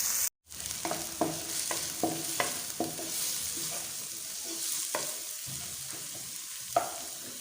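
Onions and cumin frying in three spoons of oil for chicken samosa filling, a steady close sizzle with repeated scraping stirs and clinks of a spoon against the pan, no talking.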